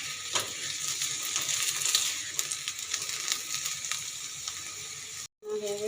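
Onion fries in hot oil in a pan for a small-shrimp bhorta, giving a steady close crackling sizzle with scraping clicks, then a brief cut before the sizzle resumes.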